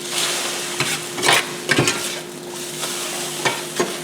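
Eggs fry in a cast iron pan with about a teaspoon of oil, a constant close sizzle broken by several short scraping bursts as a spatula turns and flips them.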